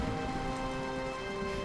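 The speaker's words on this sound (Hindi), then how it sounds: "बारिश अब रुक रुक कर नहीं, लगातार गिर रही थी।" Heavy cold-season rain pouring down continuously over fields, a dense, steady hiss with a low background rumble and no voices.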